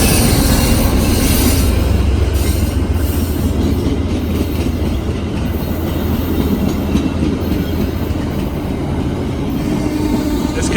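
A VIA Rail passenger train rumbles past nearby, a steady loud roar of wheels on rails with faint rhythmic clacking and occasional squeal, no voices.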